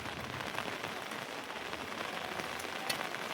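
Steady rain pours down in a dense, even hiss of drops hitting a surface, with no voices.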